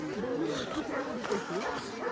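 A dog gives short whimpering yips and bow-wow sounds nearby, a sharp pitch rising and falling against an outdoor background where people are playing.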